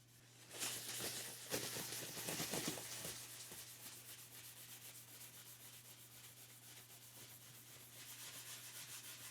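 Oil is rubbed into the rosewood-style neck of a Gibson SG electric guitar with a cloth, giving a soft, close rhythmic rubbing and swishing that starts vigorous and settles into a quieter, steady wiping under a low hum.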